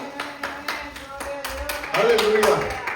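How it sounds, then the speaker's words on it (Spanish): A church congregation claps during a worship service: a steady series of rhythmic claps, moderately loud, with a voice speaking and calling out over them and growing louder near the end. "Denle un aplauso al Señor, amén."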